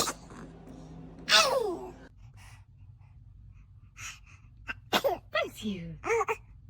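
A baby girl's tiny sneeze bursts out sharply, followed by soft breathy vocal sounds and a voice talking gently nearby.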